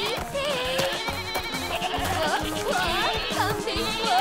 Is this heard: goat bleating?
yes